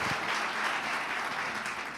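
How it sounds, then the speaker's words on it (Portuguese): A church congregation applauds during a service, a dense, continuous clapping that fills the space throughout and tapers slightly at the end. "Que você possa aplaudir a Deus pela sua vida, por essa igreja"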